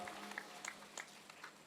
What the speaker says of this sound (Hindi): सभी एक बार पुनः एक दूसरे के सम्मान में तालियों की गड़गड़ाहट कर रहे हैं